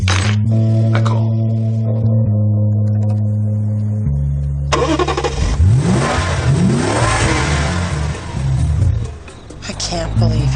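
An Infinity coupe's engine revs up and roars as the car pulls away, a loud rising growl that swells and falls over several seconds after a stretch of steady tones.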